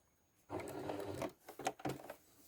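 A sewing machine stitches a quilting line through the center block of a shadow-triangle quilt, a steady whirring run for about a second followed by a few short bursts of stitching, close and clear.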